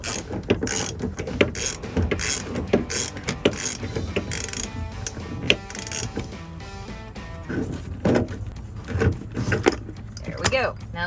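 Ratchet wrench clicking in quick bursts as it backs out a stubborn seat belt bolt on a Jeep Wrangler YJ, with sharp metallic ticks, clanks and rattles close by.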